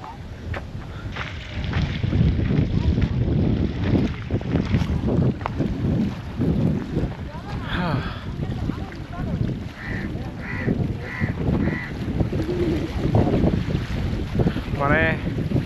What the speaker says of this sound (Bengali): এতক্ষণ পর এত সুন্দর বাতাস দিচ্ছে, দারুণ।